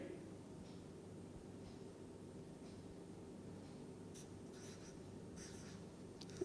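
Chalk or marker writes on a board during a chemistry lecture on p-block elements, leaving faint, scattered scratchy strokes over a low, steady room hum.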